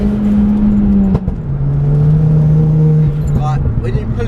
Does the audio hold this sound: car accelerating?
yes